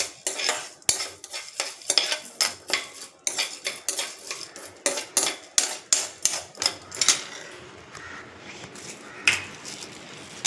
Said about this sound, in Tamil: இதை நல்லா செவக்க வறுத்துடலாம்.